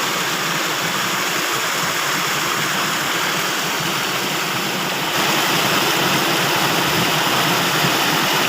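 An artificial waterfall roars as a loud, steady, broadband rush of falling water close by, unbroken and growing slightly louder partway through.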